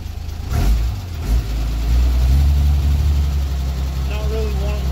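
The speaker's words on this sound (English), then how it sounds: "Let you guys hear this diesel engine. We'll rev it up a little bit." Isuzu 6BD1-T diesel engine in a 1991 Isuzu FTR dump truck with a straight-piped exhaust, not yet warmed up, rumbling loud and close, then rising in two quick revs before holding a heavy, steady drone.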